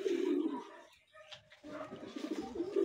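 Racing pigeons back home at their loft coo in soft, low, repeated throaty calls, close by, with a brief lull in the middle before the cooing resumes.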